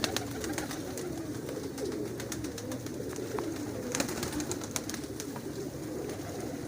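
Pigeons cooing softly nearby, repeated low burbling coos over a faint background with scattered clicks and rustles.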